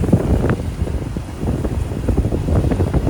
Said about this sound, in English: it looks as though the wind might be getting up